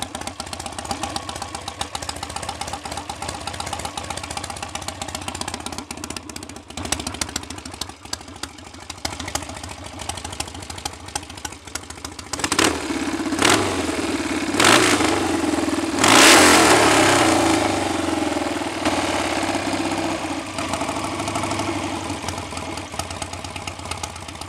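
A BSA A65 Hornet motorcycle engine ticks over steadily, its even mid-pitched idle rising into a couple of short blips of throttle partway through, then settling back to a running idle, with no voices.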